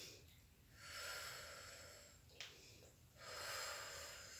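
Slow, audible breathing during an oblique abdominal exercise, two long breathy inhale-exhale swells, close and faint, with no talking.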